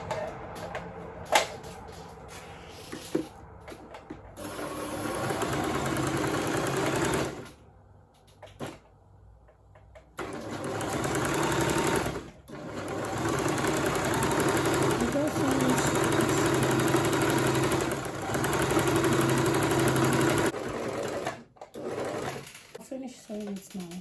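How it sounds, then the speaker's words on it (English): A sewing machine stitching fabric for ruffles runs in a steady buzzing whir through long stretches, stopping briefly a few times, with a person talking over parts of it. "Now I want to sew the fabric."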